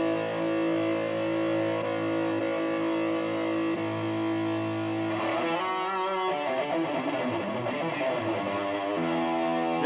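Electric guitar played through a Boss Katana 100 amp with high-gain distortion: sustained saturated chords for about five seconds, then busier riffing with a harsh, buzzing edge, loud and continuous with no voices.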